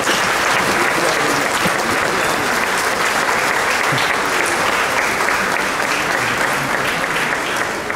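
A parish congregation in Tlalchapa bursts into loud, sustained applause to welcome their new priest, dense clapping filling the church steadily from start to finish.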